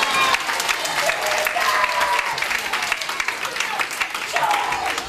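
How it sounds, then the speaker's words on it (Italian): Audience applause for Flipper at a children's show, a lively round of clapping mixed with excited voices and shouts from the crowd, holding steady at a strong level throughout. "Un applauso a Flipper!"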